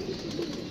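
A female pigeon coos softly, a short low throaty murmur heard faintly and close, lasting under a second.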